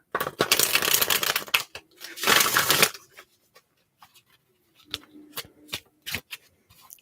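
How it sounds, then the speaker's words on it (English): A deck of tarot cards being shuffled in a quiet ASMR setting: two long, loud riffling bursts, followed by softer scattered taps and clicks of cards being squared and handled close up. "And I'll be done shuffling these cards very soon."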